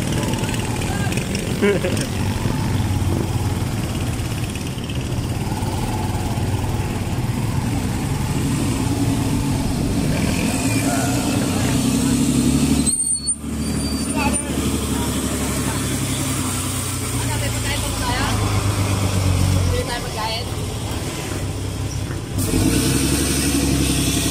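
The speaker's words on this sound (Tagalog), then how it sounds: "Daming sasakyan ngayon, no?" Busy road traffic with cars and motorcycles passing, a steady loud engine and tyre rumble with revving swells, running continuously under people talking nearby.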